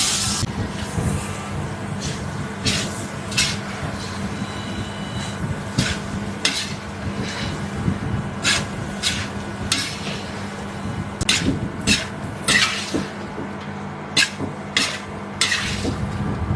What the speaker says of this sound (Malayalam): ഇതൊന്ന് എല്ലാം ആ നേരത്തെ വിട്ടിരിക്കുന്ന മസാലയിലൊക്കെ നന്നായിട്ട് മിക്സ് ചെയ്ത് പിടിച്ചു